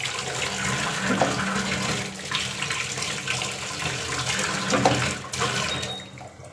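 Potatoes being washed under a running kitchen tap, a continuous splashing gush of water with small shifts as the potatoes are rubbed and turned, no talk.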